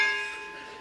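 A struck gong rings with several clear sustained tones, already sounding at the start and slowly decaying, fairly soft and alone.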